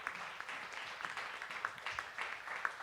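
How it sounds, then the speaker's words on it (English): Lifetime members of an entrepreneurship peer-mentorship group are applauded by a small audience, a fairly faint, distant patter of hands with rhythmic clapping peaks throughout. "Round of applause."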